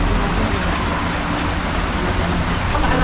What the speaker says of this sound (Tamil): மழை வேற தூரிக்கிட்டே இருக்கு.